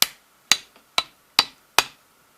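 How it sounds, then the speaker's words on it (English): Five sharp taps of a wooden hammer handle on a part of a Pietta 1851 Navy revolver during reassembly, evenly spaced about half a second apart, close and crisp with a faint extra tick between the second and third. "I have to give it some taps using the wooden part of your hammer."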